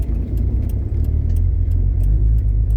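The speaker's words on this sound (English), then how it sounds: "is the car gonna stall?" A 1981 Ford Mustang's engine idles roughly with a low, uneven rumble that sputters and labors as if close to stalling, continuous and near, in winter.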